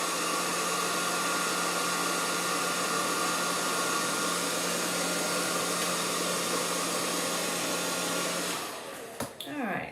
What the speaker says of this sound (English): So I'll just put the hairdryer on that little spot.